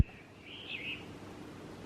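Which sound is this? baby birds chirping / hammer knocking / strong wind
baby birds chirping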